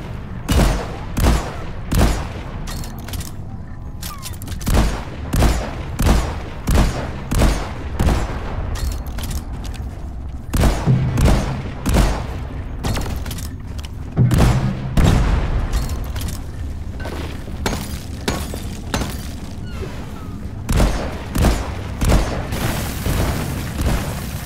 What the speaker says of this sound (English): Disabled! Sniper turrets!